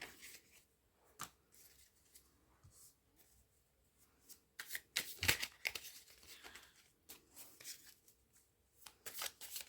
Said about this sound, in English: So I shuffle and then I get to cut and choose where my cards come from.